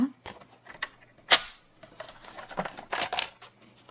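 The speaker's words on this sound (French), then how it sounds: "On en a fini avec le massicot." A paper guillotine trimmer cuts card for a sugared-almond box, giving several sharp, close snaps and clicks spread unevenly over a few seconds in a quiet room.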